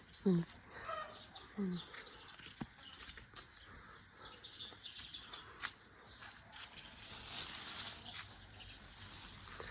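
A couple of short clucks from neighbours' chickens early on, then quiet outdoor ambience in a yard with apricot trees, faint rustling and distant chirps.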